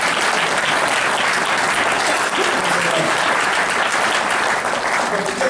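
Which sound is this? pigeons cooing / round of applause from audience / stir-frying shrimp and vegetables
round of applause from audience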